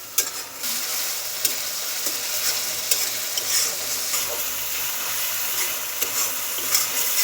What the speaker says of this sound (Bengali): আমি এটাকে এখন কষিয়ে নিব।